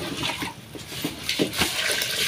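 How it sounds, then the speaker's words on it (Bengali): Hot water poured steadily into a pot of khichuri cooked with beef fat, a continuous splashing, gurgling liquid rush with a few louder surges, close by. "এখন পানি দিয়ে দিচ্ছি।"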